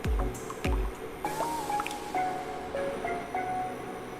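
Honey mixture being stirred in a pot, wet squishing and sticky scraping sounds with a few soft knocks at the start, close and moderately quiet.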